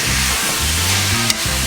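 Meat fries on a hot skillet set to full high, giving a dense continuous sizzle with a steady low hum underneath and a single brief sharp tick near the end.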